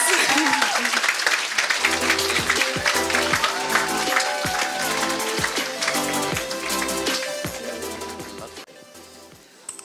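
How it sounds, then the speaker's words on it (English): A roomful of people at an awards ceremony applauds while music plays over the clapping, the dense applause loud at first and gradually fading toward the end. "we all deserve a big round of applause"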